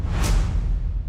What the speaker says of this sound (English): Now let's take a hard kick, a thuddy kick, reverse it, the sound effect